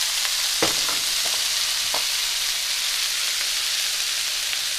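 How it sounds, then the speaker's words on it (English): Zucchini and cherry tomatoes sizzle in a pan over medium-high heat, a close, constant frying hiss with a few sharp pops and stirring scrapes early on, no voices. "Now at this point, I'm going to add in my cherry tomatoes. Give this a stir, still medium-high."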